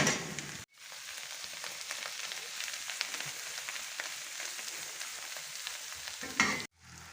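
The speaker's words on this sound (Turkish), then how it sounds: "Baharatımızı da ekliyoruz ve iyice karışmasını sağlıyoruz." Oyster mushrooms fry in a pan, seasoned with red pepper, black pepper and salt, while being stirred. A steady close sizzle runs throughout with stirring scrapes mixed in, cut off briefly near the start and again at the end.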